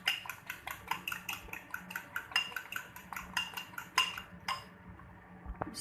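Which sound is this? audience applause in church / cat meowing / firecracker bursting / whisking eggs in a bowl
whisking eggs in a bowl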